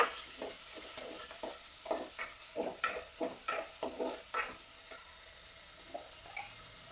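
Chopped tomatoes sauté in a pan under a soft sizzle while a spatula stirs and scrapes in a rapid run of distinct strokes that thins out near the end, close and free of talk.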